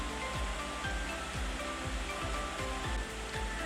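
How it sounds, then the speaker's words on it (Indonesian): Suwat Waterfall in a Bali forest in Gianyar pours as a dense, continuous broadband roar, steady and close, with faint low thumps recurring underneath and no voices. "Inilah Suat Waterfall yang kini sedang digandrungi wisatawan asing."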